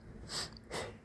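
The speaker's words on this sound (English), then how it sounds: "I keep sneezing." A quiet, close pair of sharp nasal bursts, like a stifled sneeze and snort, about half a second apart in a calm room.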